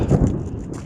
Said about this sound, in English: Starts this thunder.